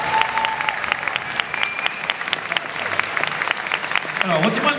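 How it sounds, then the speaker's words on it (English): Steady applause from a convention audience at a Paris Manga fan panel welcomes children from a charity onto the stage, dense and continuous clapping throughout, with a voice briefly heard near the end. "Allez, venez, on les applaudit s'il vous plaît"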